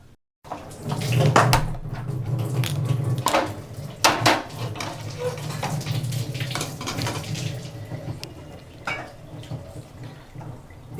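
Ivy gourd chutney pounded by hand in a kitchen, irregular knocks and scraping taps of the grinding at close range, with scattered clatters and a soft continuous rustle between them.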